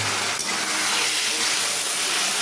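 A little water poured onto fried spice paste in a pan while cooking fish head with winter cabbage bursts into a loud, steady steamy hiss that fills the whole moment, close up.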